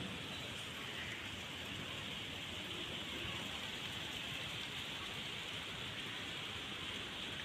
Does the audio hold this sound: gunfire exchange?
no